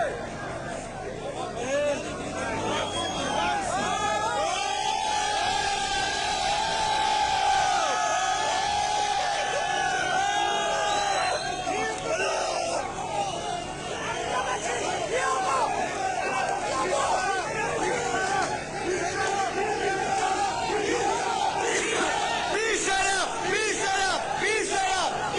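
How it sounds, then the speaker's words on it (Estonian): Protesters in a large crowd shout and chant together in loud, continuous waves of raised voices and cries for the whole stretch. "Tormamine ja meeleavaldajad, kes karjuvad repressioonide vastu."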